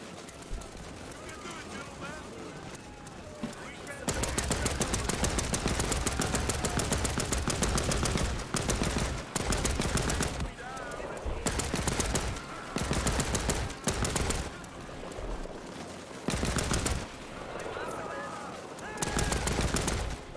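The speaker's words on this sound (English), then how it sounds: "I quite like the machine gun play." Sustained machine gun fire in the video game Land of War, loud bursts of rapid shots running almost continuously with short pauses between volleys, and voices underneath.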